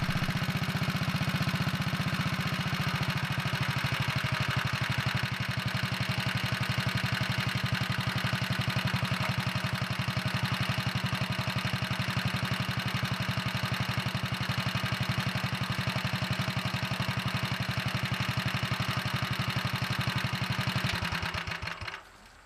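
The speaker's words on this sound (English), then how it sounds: "I'm going to turn the idle speed down some." A Kohler engine on a Wheel Horse 401 garden tractor idles at a lowered speed, a steady close rumble with light clatter running unbroken for about twenty seconds before cutting off at the end.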